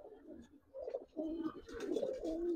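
Giribaz and coloring pigeons coo close by, soft low throaty phrases repeating in uneven bursts and growing fuller toward the end, with faint background chatter.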